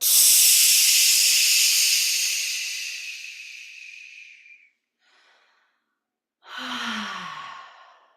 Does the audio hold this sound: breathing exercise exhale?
yes